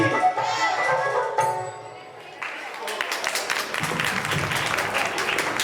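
Applause from an audience follows a cultural performance of devotional singing, the clapping rising after the music fades and continuing steadily, with some voices mixed in.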